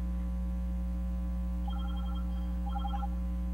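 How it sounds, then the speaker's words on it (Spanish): A telephone rings in two short electronic bursts of warbling tone, fairly faint over a steady low hum in an indoor room. "un minutito que suena el teléfono"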